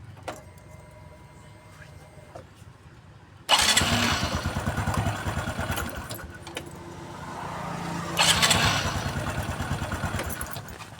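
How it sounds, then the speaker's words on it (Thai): A Honda Wave 110i motorcycle from 2013, just fitted with a new starter motor, cranks and catches after a quiet lead-in, then idles loudly and steadily with a pulsing rhythm and revs up near the end. "เดี๋ยวเรามาทดลองสตาร์ทดูว่ามันใช้งานได้ไหมนะครับ"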